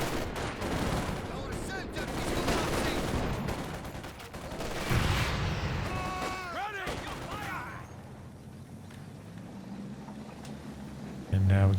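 A ZiS field gun barrage in Company of Heroes 2 thunders through a dense run of booming shots and blasts, with battlefield clatter, then fades to quieter rumble before a final burst; a commentator talks over it.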